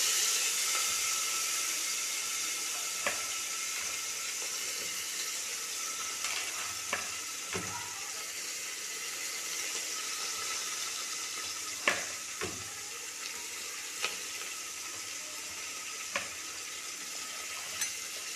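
Whole spices, including star anise, fry in hot oil for a country chicken gravy, with onions to follow: a steady, close hiss of sizzling runs throughout, broken by occasional sharp clicks and scrapes of stirring, with no talking.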